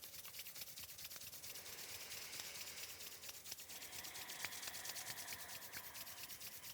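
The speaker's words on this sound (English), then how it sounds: "let's bring some heat to our hands, rubbing the palms, gently softening into the insides of the fingers" Steady, soft friction of palms being rubbed together, warming the hands, continuing evenly and quietly for several seconds with no talking.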